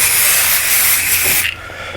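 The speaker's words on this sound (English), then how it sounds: "use the 505 temporary spray adhesive and just spray the back of the paper" A steady, close aerosol can of 505 temporary spray adhesive hisses continuously for over a second onto the back of paper, then cuts off, leaving a quieter fading hiss.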